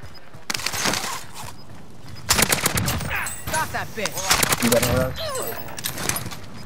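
Bursts of gunfire crack out in a video game, followed by sharp, dense shots in the middle stretch, while voices call out over the shooting. The weapon is a Kar98 rifle.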